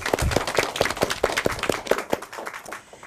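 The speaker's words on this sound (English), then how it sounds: "Big round of applause for yourselves." Elementary school students at a derby match give a round of applause, a short burst of quick, fairly loud clapping that thins out and fades after about two seconds.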